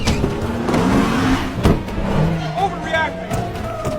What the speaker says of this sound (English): She slammed the accelerator, driving straight toward Pete as he tried to explain